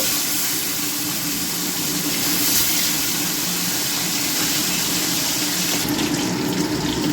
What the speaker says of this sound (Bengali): তেলটা গরম হয়ে গেছে এবার আমি একে একে করে মাছ ভেজে নেব